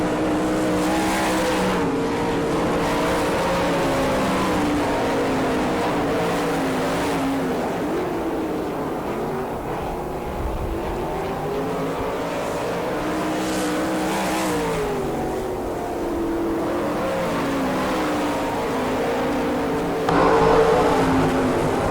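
A pack of 360 sprint cars roars around a dirt oval at Gibsonton, Florida, with engines droning together loudly and continuously, the pitch rising and falling as cars pass and accelerate.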